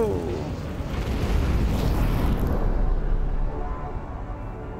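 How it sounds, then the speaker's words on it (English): Fireworks show explosions boom as a dense, loud rumbling barrage of overlapping bursts, sustained for several seconds before easing off slightly at the end. "Fireworks show."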